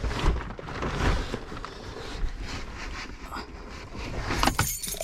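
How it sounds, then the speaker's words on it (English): Keys jangle and clink in short, uneven bursts, fairly close, mixed with light handling clatter and background rustle; no one speaks. "Keys."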